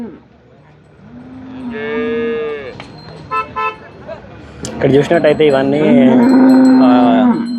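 Cows, including crossbred HF and Jersey dairy animals, moo loudly and at length at the Sardar Nagar cattle market, with a horn toot and someone talking in between.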